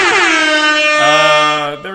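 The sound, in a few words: air horn blasts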